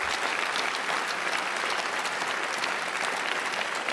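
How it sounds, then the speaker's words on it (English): Dense, steady applause from a large political conference audience fills the hall, a continuous even roar of many hands clapping at once with no talking. "a round of applause for the good people of West Burton in Nottinghamshire"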